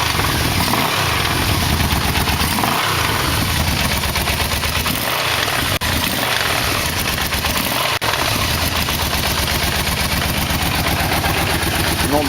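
A Yamaha V-Max motorcycle engine idles steadily, loud and close, with a dense, even rumble and a couple of faint ticks, running alone for the whole stretch.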